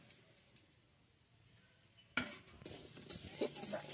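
Dal poured into a hot karahi over a lit clay stove, then stirred and fried, a quiet start giving way to a sudden loud burst of sizzling with scraping stirs close by.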